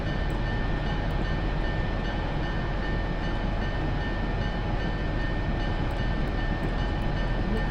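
A locomotive rolls along the tracks in the Railworks train simulator, a steady, loud, continuous rumble with a faint high whine running throughout and no talk.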